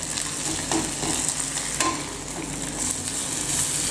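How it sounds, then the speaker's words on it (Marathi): Chopped onion is stirred and fried in oil for a village-style onion-chilli thecha, a close continuous sizzle broken by scraping stirs of a spoon against the pan, with no talking. "आता सगळा कांदा कापलेला मी टाकला आहे। आता तो चांगला परतवून घ्यायचा तेलामध्ये"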